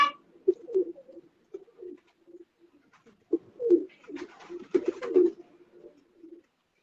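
Black-faced Sialkoti pigeons coo in bursts, soft rolling calls repeating close by, with short pauses between phrases and a few faint higher chirps.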